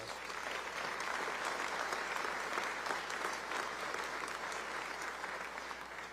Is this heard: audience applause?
yes